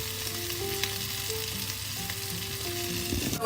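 Floured meat seasoned with salt and pepper fries in a pan with a steady, close sizzle and crackle, bright spattering spread evenly over the whole stretch with no voices.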